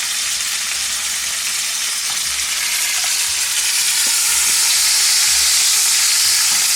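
Steady, dense sizzling of beef for braciole frying in a hot pan, continuous and close, with a few faint clicks and no talking.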